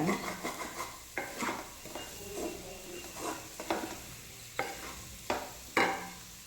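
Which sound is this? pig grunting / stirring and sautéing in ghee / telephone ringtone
stirring and sautéing in ghee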